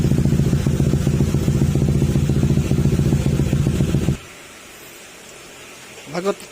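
A Honda ADV160 scooter engine idles with a steady, even putter for several seconds, then cuts off, leaving near silence and a brief sound at the end.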